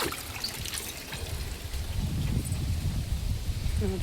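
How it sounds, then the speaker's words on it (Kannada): Water trickles out in a garden of young areca palms, a low burbling flow that grows louder and busier after the first two seconds. "ಸ್ವಲ್ಪ ನೀರು ಬಂದಿದೆ."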